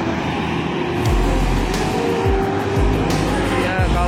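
A Kurnia intercity bus accelerates hard at a toll road gate in Aceh, its engine a loud, close, sustained roar that climbs in pitch in repeated surges as it pulls away.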